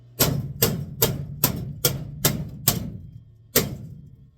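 Hammer blows bashing a tacked-in sheet metal outer floor pan on a 1980-1985 Ford Bullnose truck, eight sharp ringing metallic strikes at a steady rhythm with a short pause before the last, close and loud.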